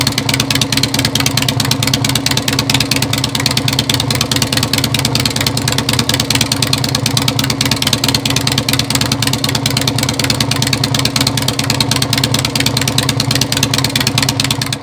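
A 2001 Harley-Davidson Sportster built as a scrambler runs loud and close, a dense continuous engine rumble holding a steady idle throughout with no pauses.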